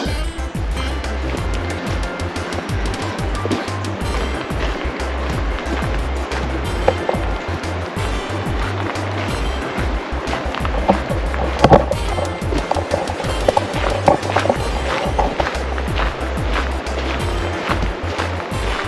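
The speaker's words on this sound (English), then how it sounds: "Waterfall. Waterfall. I hear 'em." Waterfalls along a drizzly trail near Exit Glacier in Kenai Fjords National Park, Alaska, heard as a steady, loud rushing roar that stays constant throughout with no talk.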